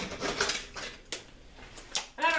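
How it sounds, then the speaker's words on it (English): Muffin batter for gluten-free pumpkin muffins whisked in a bowl, giving a few brief clinking, scraping strokes in separate bursts at close range. "Go ahead and whisk it."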